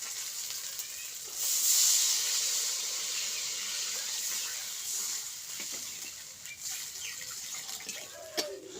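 Water poured into a pan of spices and ginger paste that have been frying, giving a loud steady sizzling hiss that surges early and then settles into a continuous crackle, with no voices.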